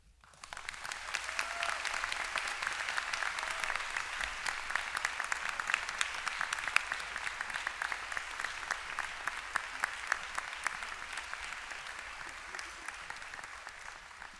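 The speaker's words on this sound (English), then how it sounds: "This always gets applause." Sustained audience applause at a 2019 graduate commencement ceremony, a dense wash of many hands clapping steadily for the full stretch with no voices over it.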